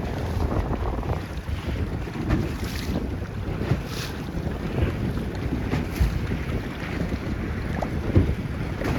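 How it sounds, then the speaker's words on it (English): Strong wind roars across the microphone while a 29er dinghy sails in about 12 knots during a racing regatta, with steady broadband rush, water splashing against the hull, and no speech. "This is a lot of wind for a 210-pound team."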